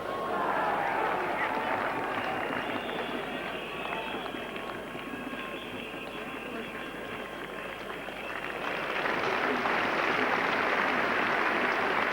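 A cricket crowd at Headingley in a 1984 England versus West Indies Test applauds in a steady wash of clapping that swells toward the end, with a commentator talking over it.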